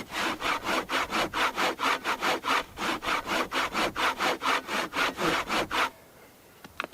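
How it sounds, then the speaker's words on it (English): An old-fashioned handsaw cuts through wood in a steady rhythm of about twenty loud, close strokes, then stops near the end, leaving quiet. "use an old-fashioned handsaw and make a really nice cut"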